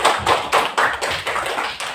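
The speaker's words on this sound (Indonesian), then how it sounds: "Tepuk tangan untuk Nabila." A short burst of hand clapping, about eight even claps in quick rhythm, close and crisp.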